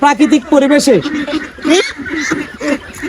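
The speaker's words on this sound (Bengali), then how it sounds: "এটা হলো আপনার বেলজিয়ামের হাঁস" Belgian ducks on a farm give a run of loud, close quacks in quick bursts, with someone talking over and between the calls.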